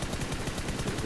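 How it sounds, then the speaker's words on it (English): Gunfire from the mobile battle-royale game PUBG Mobile, a red-dot-sighted rifle landing a headshot, heard as a dense, steady burst of loud shots filling the full second. "Sick headshot with the red dot."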